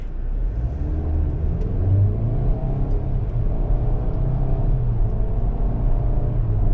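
A 2023 Chevrolet Blazer LT with a brand new engine accelerating gently toward 60, its steady engine rumble and road roar loud and continuous from inside the cabin, with no voices.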